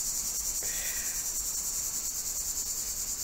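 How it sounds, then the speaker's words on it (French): Cicadas drone in July, a steady high-pitched buzzing chorus that holds without a break throughout. "Je sais pas si vous entendez, il y a les cigales"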